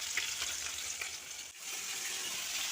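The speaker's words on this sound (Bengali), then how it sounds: "এই দেখো এখন মাছ ভাজছি" Fish frying in a pan on a gas stove, heard up close as a steady, bright sizzle and crackle of hot oil with a brief dip midway.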